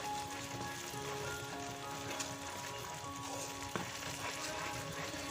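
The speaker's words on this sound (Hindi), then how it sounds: "इस तरह से ये गुड़ पिघल गया है और ये उबलने लगा है" Jaggery melted with ghee bubbles and sizzles in a pan, a steady close frying hiss with small pops and crackles throughout.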